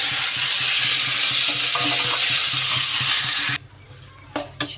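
Boiled lentils hit hot oil in a pan for a fish-head dal, a loud continuous sizzle that suddenly cuts out into near quiet, followed by a few soft utensil clinks.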